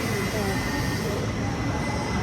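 A train at a railway station, a continuous loud rumbling roar of rolling carriages and wheels with a faint high squeal, close by and unbroken throughout.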